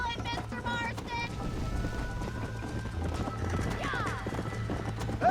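In Red Dead Redemption a horse gallops with fast, steady hoofbeats and snorts or whinnies briefly, while game characters talk over the continuous rumble of the ride.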